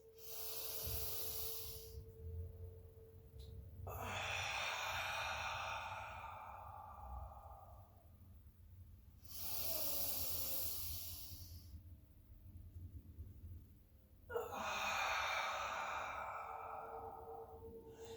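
Slow, deliberate breaths during a chair yoga session, with long, airy inhales and exhales alternating in separate sighing bursts, close to the microphone and fairly quiet, with no talking.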